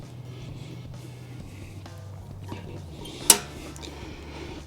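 The metal vent on a Weber Summit Kamado charcoal grill is slid open over a low background hum, ending in one sharp, close metallic clack.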